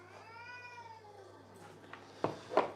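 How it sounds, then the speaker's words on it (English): A domestic cat gives a long, drawn-out meow that wavers in pitch, followed by sharp, louder yowls near the end as it squares off with a dog, close and clear with no talking. "The cat and dog are having an absolute conniption here, look."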